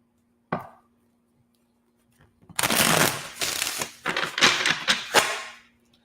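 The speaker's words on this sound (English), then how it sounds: "Let's get one more shuffle." A deck of tarot cards is shuffled up close: a single tap, then a few seconds of dense riffling and flicking in bursts that fade out, with no voice.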